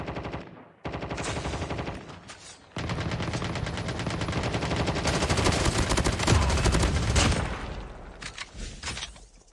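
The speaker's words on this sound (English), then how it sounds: "Think I'm hearing shots, guys." Rapid automatic gunfire from Call of Duty Mobile, loud sustained bursts with brief gaps, near and dense, with no talking.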